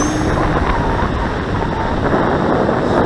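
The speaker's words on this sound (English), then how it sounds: "So the wind is now south-southeast and it's dropped off a bit, so it should be okay." Strong wind rushing across a beach during the launch of a Top RC Lightning model plane, a continuous broadband roar buffeting the microphone throughout, with no voices.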